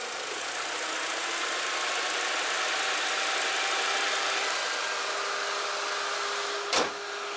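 An old Mini Cooper engine idling steadily at close range, a smooth continuous hum with one brief sharp click near the end.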